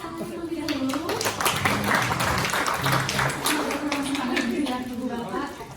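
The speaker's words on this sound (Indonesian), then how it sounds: "Boleh saya dengar tepuk tangan terlebih dahulu?" Audience clapping at a showroom event for facade design, a steady mass of hand claps with a voice speaking over it throughout.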